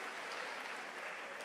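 Congregation applause at a church service, a steady, dense wash of many hands clapping together, continuous and even throughout without any spoken voices.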